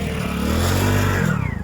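A motorbike engine runs close by in the street, a loud, steady droning rev that holds throughout and eases slightly toward the end.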